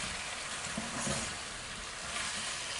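Tomatoes sizzle in a pan while cooking for a Spanish paella, a steady broadband frying hiss with soft crackles throughout, close and moderately loud, no talking.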